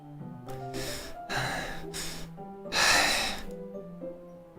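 Repeated sharp gasping breaths from the Doki Doki Literature Club Plus video game, several distinct inhaled gasps over soft background music, one strongest near the end.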